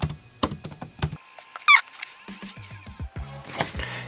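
Keys clatter on a computer keyboard in short irregular bursts, close and fairly quiet, separated by brief pauses, with a squeak partway through.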